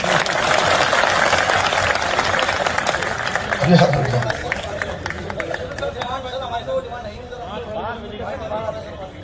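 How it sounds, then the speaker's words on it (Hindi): A crowd at a public address in Uttarakhand gives a round of applause that starts loud and gradually thins, with voices chattering and someone talking over the clapping as it fades. "अब ताली तो बजा दीजिए थोड़ी"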